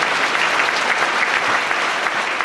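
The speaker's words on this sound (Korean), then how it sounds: "박수를 함께 올리겠습니다" Thick, sustained applause from a church congregation at a deaf ministry service, an even wash of many hands clapping together with no voices on top.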